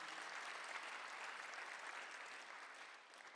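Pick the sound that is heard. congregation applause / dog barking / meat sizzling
congregation applause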